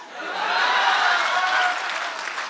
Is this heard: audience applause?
yes